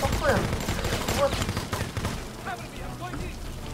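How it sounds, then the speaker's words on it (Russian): Gunfire in the video game Kill Switch rattles in quick repeated bursts with short pauses, fairly loud against a low rumbling background. "Прям стреляет и стреляет"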